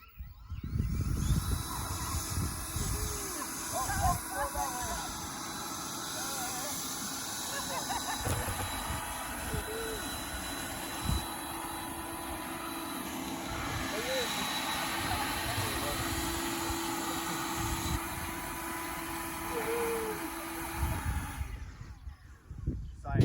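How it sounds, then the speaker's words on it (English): A loud, steady blower roars with a broad hiss for a long stretch, starting and stopping abruptly, while faint voices are heard underneath. "Toilet paper, leaf blower."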